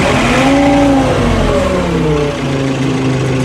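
A tractor diesel engine with a mechanical injection pump and hydrostatic drive revs loudly and close up as the throttle is worked, its pitch rising and falling, with no talking.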